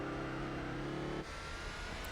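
A race car engine in the Gran Turismo 4 video game revs steadily with a low rev ceiling and a redline near 6,000 RPM. The loud, continuous drone shifts to a rougher tone about halfway through.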